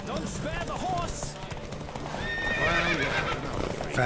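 Horses in a race in the video game The Witcher 3, hooves clip-clopping at a gallop alongside a loud neigh, set against music and voices talking.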